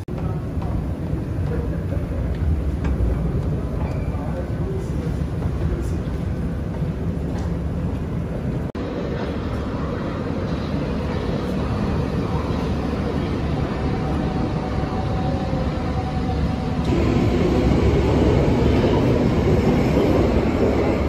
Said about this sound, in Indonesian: Dan akhirnya ini kereta aku menuju Munchen udah datang.